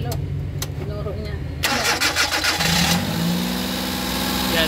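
A Suzuki DA64 engine is cranked and catches, bursting into a loud revving roar that settles into a steady idle hum, close by, with voices in the background.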